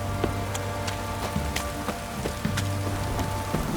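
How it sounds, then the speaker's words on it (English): Heavy rain pours steadily in the video game The Witcher 3: Wild Hunt, a dense continuous hiss of drops on surfaces with scattered louder splashes, loud and close, with no speech. "This downpour's a bastard, it is."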